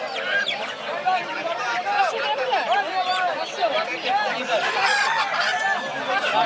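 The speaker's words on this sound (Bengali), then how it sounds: "এই যে দেখুন কাঁচি ভর্তি দেশি মোরগ" Native roosters and other fowl crowd a Sunday poultry market in Sonargaon, crowing and clucking almost continuously at close range, with market chatter mixed in.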